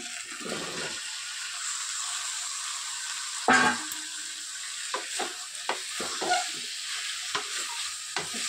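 Boiled jackfruit being sautéed in a pan gives a steady, close sizzle, broken by a sharp spatula scrape and a series of light stirring clacks and knocks.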